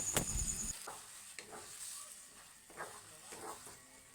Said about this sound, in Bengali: তো এটাকে নাড়তে নাড়তে অনেকটাই টেনে যাবে, একটা ডো টাইপের করে নেব।